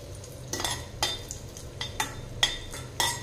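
Raisins stirred in a hot pan of frying cashews for rava laddu with jaggery, a spoon scraping and clinking against the metal in several distinct strokes over a soft, steady sizzle.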